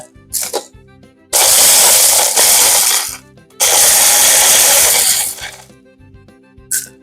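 Peppercorns cracked in a small electric grinder, in two loud whirring bursts of about two seconds each, with quieter clattering and handling before, between and after.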